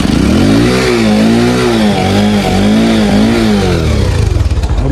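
A motorcycle engine revs steadily up close, its pitch wavering as the rider pushes through deep flood water during heavy rain, with splashing and clatter underneath.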